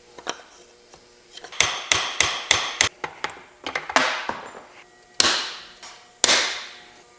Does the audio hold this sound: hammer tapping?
yes